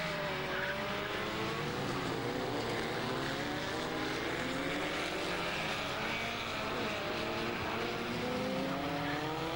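A Scarab Mark II Formula Vee race car sweeps past during practice for the final round of a 1991 race meeting, its engine note rising then dropping in a clear pass-by that fades out over steady track noise.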